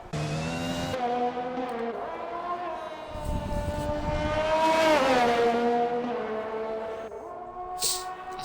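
Race cars in a racing video game lapping the Australian Grand Prix circuit, with a sustained high engine whine that rises and falls as the cars accelerate and shift, near and loud throughout.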